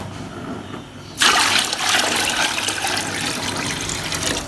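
Water suddenly starts gushing and splashing steadily into a pot for haleem after a quiet second, a continuous pouring rush that keeps going to the end.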